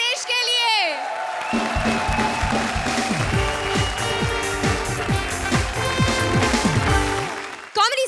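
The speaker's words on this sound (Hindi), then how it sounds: "तो जोरदार तालियां एक बार कृष्णा और सुदेश के" Studio audience applause for comedians Krushna and Sudesh on the Comedy Circus stage, a broad, sustained clapping bed running beneath loud music and a speaking voice, cut off sharply near the end.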